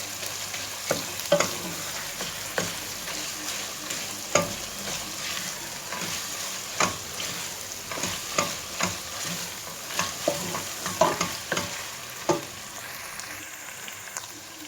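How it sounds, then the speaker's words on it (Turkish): Tomato paste sautéing and being stirred in a pan for a meat and potato dish, with a steady low sizzle and repeated scraping strokes of a spoon spaced irregularly throughout, close and moderately loud, no voices. "Bir yemek kaşığı salça ilave ediyoruz. Ve güzelce kavuruyoruz."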